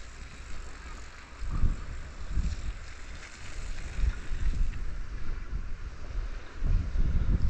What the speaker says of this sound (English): Oh, the wind picked right up there.